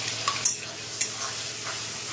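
Ginger garlic paste frying in hot oil for chilli chicken, a steady close sizzle with a few brief stirring scrapes and clinks over about two seconds.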